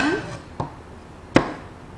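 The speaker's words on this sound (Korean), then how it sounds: "밤 또한 적당한 크기이기 때문에 2등분, 4등분, 6등분 정도 대추, 호박과 비슷한 크기로 잘라주시면 됩니다" A kitchen knife cuts chestnuts into quarters on a cutting board, giving two sharp, separate chops against a quiet background. A short tonal sound is heard at the start.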